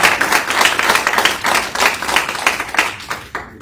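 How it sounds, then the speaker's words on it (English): Live audience applause at a church's 40th anniversary celebration: steady, fairly loud clapping from many hands that fades off near the end, with no talking. "Gene and Al, that we applaud"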